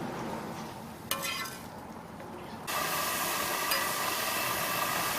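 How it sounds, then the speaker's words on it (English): Steady hissing sizzle of food cooking over a fire, continuous and fairly close, growing a little louder partway through with an occasional faint click. "you can hear a bit of sizzling, I think."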